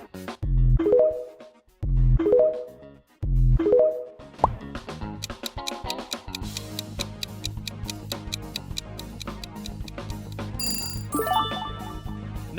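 TikTok logo sound: three punchy, rising tonal bursts with short gaps, followed by a busy layer of ticking, clicking beats and a bright chime near the end, with no voice.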